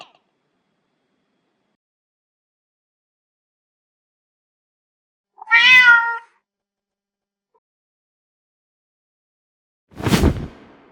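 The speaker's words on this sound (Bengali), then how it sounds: "এটি হলো বিড়াল" After a long silence, a cat lets out one clear, drawn-out meow nearby, followed a few seconds later by a brief, sharp burst of noise.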